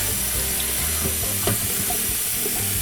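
Running water from a kitchen tap splashes steadily over fresh poblano peppers being rinsed, with light rubbing and clatter underneath, close and continuous without any talk.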